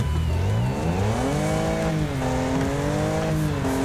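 A race car in the video game Wreckfest, engine droning loudly with pitch sliding up and down as it struggles to turn, with a continuous dense roar throughout.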